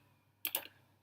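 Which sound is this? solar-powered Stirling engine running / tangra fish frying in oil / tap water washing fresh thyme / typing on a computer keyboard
typing on a computer keyboard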